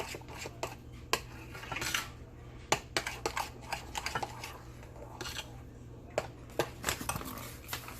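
Spoon scraping and clinking through watered-down cornbread batter being stirred in a bowl, a steady run of light knocks and scrapes close by, with faint talk in the background.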